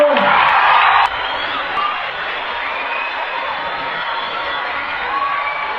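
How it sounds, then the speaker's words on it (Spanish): Large outdoor crowd at a church march cheering and clapping, a loud dense roar that peaks at the start, then settles into sustained whoops and applause heard from amid the gathering. "Fuerte, fuerte el aplauso."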